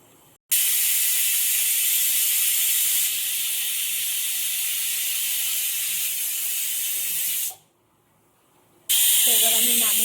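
A pressure cooker on a kitchen stove vents steam in a loud, continuous hiss lasting several seconds, easing slightly partway through, then cutting off abruptly before a brief second burst.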